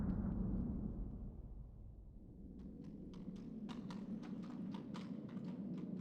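Horse hooves clip-clopping in Shadow of the Colossus, a steady run of distinct hoof strikes over a deep low rumble, starting faint and becoming sharper and more regular partway through.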